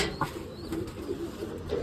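Pigeons coo softly in short repeated phrases while being fed grain, with a light flutter near the start and quiet background noise.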